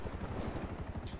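A helicopter in GTA 5 during an online parkour deathmatch, its rotor thumping in a steady fast chop with a whining engine tone, loud and close throughout.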